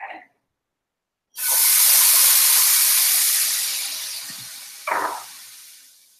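Cooking spray hisses onto a pan in one loud, steady burst that slowly fades, then a short second spritz follows as cauliflower rice goes into the hot pan for collard green stuffing.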